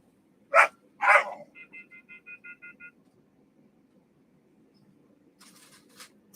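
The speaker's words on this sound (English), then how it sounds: "Sorry about the dogs." Two loud dog barks in quick succession, followed a few seconds later by a fainter bark or yelp, heard indoors over a low background hum with no talking.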